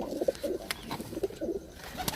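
Champion pigeons kept by a fancier coo softly and repeatedly at close range, with a few short rhythmic calls in a quiet setting and no talk.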